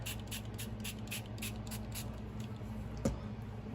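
A spray bottle mists water over Tim Holtz Distress Crayon lines in a quick series of about eight short, soft, close hissing spritzes in a fairly even rhythm, followed by a brief tap.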